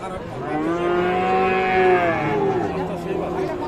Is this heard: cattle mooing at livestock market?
yes